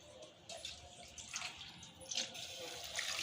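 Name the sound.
water being poured into mutton paya soup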